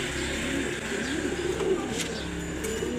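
Soft, low cooing from a pigeon or dove, repeated faintly over a steady background hum, with no talking.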